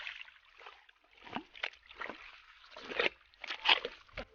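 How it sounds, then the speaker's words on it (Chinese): Bare hands dig and scoop through soft tidal mudflat mud at low tide to catch crabs, making faint, irregular wet squelches and sloshes close by. "扣挖泥土过程中发出的声音让人非常享受"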